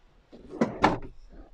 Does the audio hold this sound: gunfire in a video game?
no